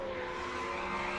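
A race car spins out during qualifying, its tires skidding and squealing in a continuous broadband hiss over a steady engine drone, loud and unbroken for the whole moment.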